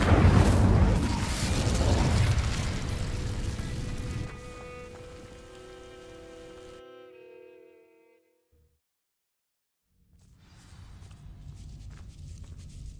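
An Incendio fire spell igniting dry vines in Hogwarts Legacy opens with a loud crackling, whooshing burst of flame that fades into a lingering tonal shimmer, then near silence before ambient noise returns.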